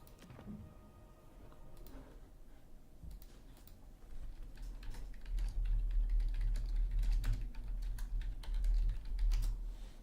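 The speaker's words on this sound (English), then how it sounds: "I'm typing to one of the players." Rapid, uneven keystrokes on a computer keyboard, close and fairly quiet, in bursts of clicks over a low background rumble; no one speaks.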